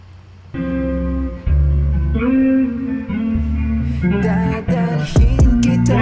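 A rapper's dry Filipino melodic rap vocal over a beat, rhythmic chanted lines with no added reverb or effects, loud and close, plays continuously.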